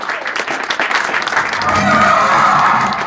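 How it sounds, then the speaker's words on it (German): Loud applause from an audience at a hip hop jam performance swells and builds into sustained clapping, with a few voices mixed in at the start. "noch ein bisschen Applaus für euch"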